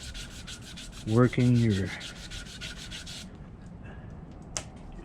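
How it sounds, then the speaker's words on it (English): Sandpaper scrapes rhythmically over the wooden handle of a horseshoe knife in quick, close rasping strokes. A short spoken phrase breaks in early, then the rubbing stops, leaving a few faint taps. "Or you can even put the sandpaper like that and use your piece of wood."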